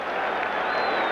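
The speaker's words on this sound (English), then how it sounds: "And this giant crowd has suddenly become revved up." A huge crowd at a 1980 NFL game, Cowboys at Giants, roars and cheers in a steady, loud wash of noise throughout.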